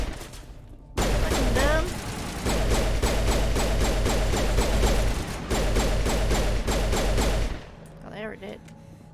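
Sustained automatic gunfire from Mass Effect pours out loud and close in two long bursts separated by a short break, with whooshing effects mixed in and someone speaking briefly over the shooting.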